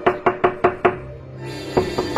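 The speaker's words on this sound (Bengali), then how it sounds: "কড়া নাড়লো," Knocking on a door in a cartoon story: five quick, sharp raps close up, a short pause, then three more knocks, with no voices.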